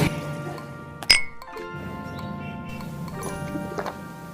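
Shot glasses clink once in a quick bright toast, near and clear, over a steady background hum in a home kitchen before cooking.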